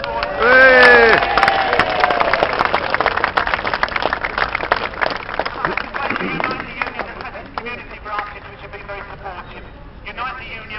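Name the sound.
crowd applause at a rally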